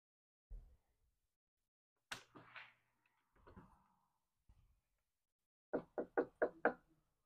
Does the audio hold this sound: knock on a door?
yes